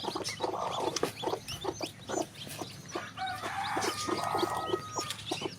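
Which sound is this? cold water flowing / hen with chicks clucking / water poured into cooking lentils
hen with chicks clucking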